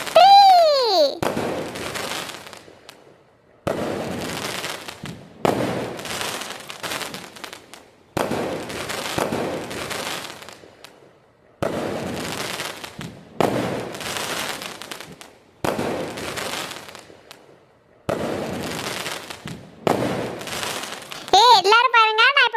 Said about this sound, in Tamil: என்கிட்ட ஸ்கை ஷாட்டும் நிறைய இருக்குப்பா, வாங்க வெடிக்கலாம்